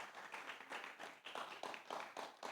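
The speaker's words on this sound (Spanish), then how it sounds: "Dele una ofrenda de palmas al Señor" A church congregation claps together in praise, a dense wash of many hands with rhythmic surges in a steady burst, fairly close and without talk.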